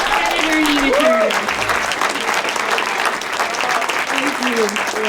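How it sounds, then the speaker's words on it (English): A large audience at a 2016 progressive political summit gives a full round of applause as a senator takes the stage. The clapping and crowd noise are dense and sustained, with a voice briefly heard above them. "So please help me give her a big round of applause, Senator Nina Turner."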